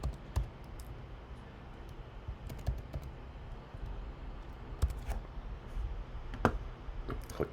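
Someone types on a computer keyboard in short, irregular bursts of clicks and key taps, close by and fairly quiet, with no talking.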